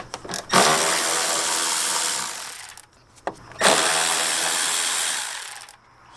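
A power driver spins out rusted T30 screws from a VW MKV bumper in two long whirring bursts separated by short pauses.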